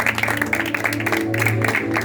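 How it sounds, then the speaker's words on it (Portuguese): A church congregation applauding, a steady wash of clapping mixed with sustained tonal organ- or keyboard-like music throughout, fairly loud and continuous. "Você pode aplaudir o nome do Senhor"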